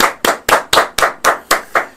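A studio group claps together in strict unison, about eight sharp, evenly spaced claps at a quick steady beat. The claps are close and loud, with no talk.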